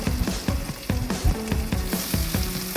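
Spice paste frying in butter for a Bengali egg dish, a loud close sizzle with rhythmic stirring strokes scraping the pan about twice a second, alone with no talking.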